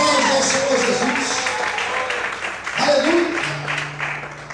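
A church congregation claps loosely throughout a worship service, with voices and music-like tones mixed in, fairly loud and continuous.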